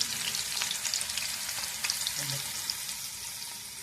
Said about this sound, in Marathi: थोडं भाजून घेऊ आपण कांदा थोडा भाजत आला